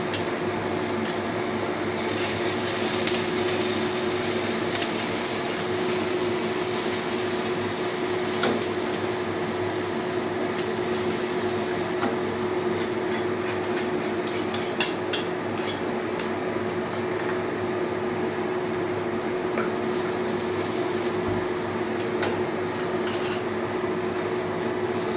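Garlic and onions cooking in a pan for savoury glutinous rice give a steady, even sizzle with a constant low hum beneath it, broken by a few faint clinks of utensils, and no talk.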